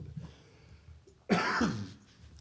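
A single close, sharp cough during a municipal council meeting after a quiet stretch, followed by a brief throat-clearing rasp.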